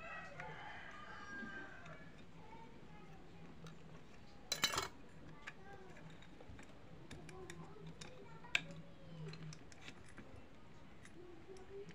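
Clutch plates for a Jupiter Z Robot motorcycle being fitted by hand, giving light metallic clinks and scrapes in a quiet workshop, with one sharp metal clatter midway and a small tick later.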